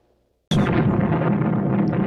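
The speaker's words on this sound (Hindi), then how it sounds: "16 जुलाई 1945 को परमाणु हथियार के पहले विस्फोट को जब देखा तो रॉबर्ट ओपेनहाइमर" The first atomic bomb test explosion of July 1945 hits as a sudden loud blast after silence, then roars on in a dense, rumbling wash.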